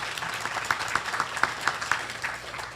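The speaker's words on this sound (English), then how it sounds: "please give Scott a great warm round of applause" A bar association audience gives a warm round of applause for a presenter, a short patch of moderate clapping with a few distinct claps, somewhat distant in a meeting room.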